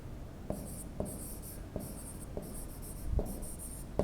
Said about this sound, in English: For example, I will write here